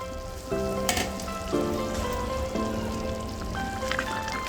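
Paneer butter masala gravy bubbles in a covered pan, a soft continuous sizzle with scattered pops and faint clinks, heard alone at low level.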